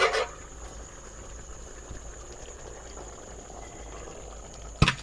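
Rice simmering in a pot of water for village-style chicken pulao, a low, steady bubbling boil that runs on at a quiet level, with a couple of brief clatters at the start and end.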